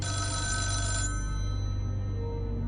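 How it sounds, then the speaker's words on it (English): A telephone rings with a bright electronic trill that cuts off after about a second, leaving a low steady hum underneath. "the phone rang"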